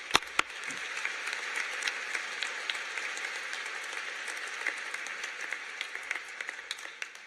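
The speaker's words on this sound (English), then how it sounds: "Please, a round of applause for everyone here in the Advisory Board." A seated audience applauds steadily at a university White Coat Ceremony for osteopathic medicine, a dense, even wash of many hands clapping that holds for about seven seconds before thinning out.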